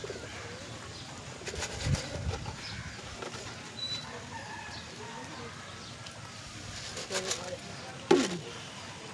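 Domestic pigeons coo at a moderate distance, low and intermittent, mixed with background noise and a few louder knocks while people talk nearby.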